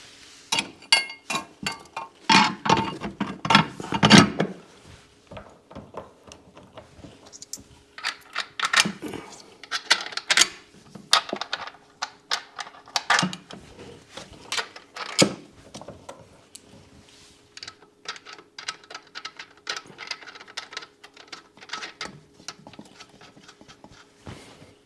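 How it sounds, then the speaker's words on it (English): An alignment tool being bolted onto a Sea-Doo 4-TEC jet ski engine gives scattered metallic clinks, ratchet clicks and tool taps, close by and irregular. "Let's get the alignment tool bolted on."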